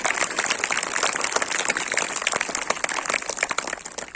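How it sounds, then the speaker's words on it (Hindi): An audience at a school event applauds children receiving gold awards, with dense, steady clapping that carries on without a break and sits close and fairly loud. "इन बच्चों तक तालियां जाना चाहिए"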